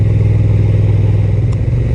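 A Honda NT 1100 DCT twin-cylinder motorcycle engine runs at about 2500 rpm, a loud, close, steady low throb with a pulsing rhythm and a brief clatter near the end, no talk.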